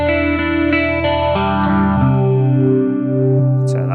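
An electric guitar through a Boss GX-10 plays a few sustained chords with a shimmering, wavering 80s-style chorus effect, loud and close.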